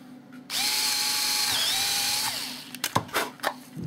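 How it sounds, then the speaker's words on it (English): A power drill bores a hole in a part for an Edge 540 model airplane, one sustained high whine of about two seconds that dips briefly under load, then stops, followed by a few clicks and handling knocks. "we're going to go ahead and drill a hole on this side also"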